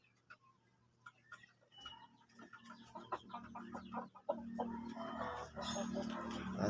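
Shamo chickens, including a mother hen with her chicks, cluck faintly in a farm pen. The clucks come in scattered bursts over soft background noise that grows busier toward the end.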